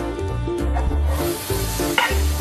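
Steady sizzling of onions stir-frying in oil in a hot pan with scraping stir strokes, close and fairly loud, continuing without a break and with no talking.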